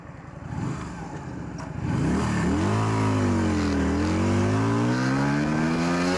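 A 125 cc motorcycle accelerates through city traffic, the engine note climbing in a rising whine through the gears, loud and close from the rider's position, with a brief dip before it pulls strongly.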